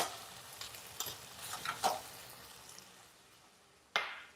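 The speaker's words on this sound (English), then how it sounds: "Now I'm going to add about 2 teaspoons of minced garlic." About two teaspoons of minced garlic sauté in a pan with a soft, quiet sizzle, a few light stirring taps and scrapes early on, and one sharper clack near the end, close but faint.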